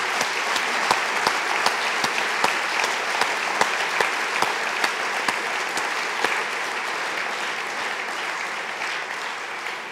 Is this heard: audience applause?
yes